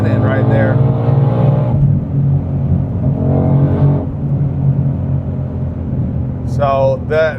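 A 2022 Ford Shelby GT500 Heritage Edition with Track Pack pulls hard through first and second gear with wheelspin, its loud, close engine note climbing, dropping at the shift, then surging again, with brief speech near the end.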